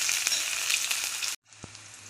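Chopped onion and garlic sizzle steadily in hot oil for a Bengali kochu pata bhorta, a dense frying hiss broken by a sudden brief dropout, then quieter sizzling with a single soft knock.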